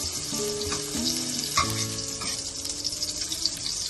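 Oil crackles and sizzles in a kadai while palak paneer is being prepared, a steady hiss with a few clinking stirs and scrapes early on, then settling into an even fry.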